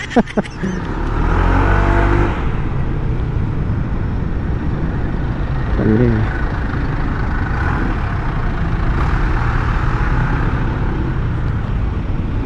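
A Honda ADV 160 motor scooter is ridden on a test ride, its engine droning loud and close as it revs and pulls steadily along.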